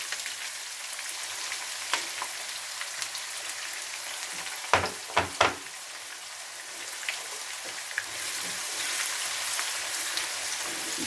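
Sliced onions frying in oil in a pan for vegetable pulao, a constant soft sizzle with a few brief clatters of stirring midway and the frying growing slightly louder toward the end.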